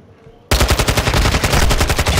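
Automatic gunfire in Call of Duty: Modern Warfare II multiplayer breaks out after a short hush. A loud, close burst of rapid, evenly spaced shots follows and keeps going without a break.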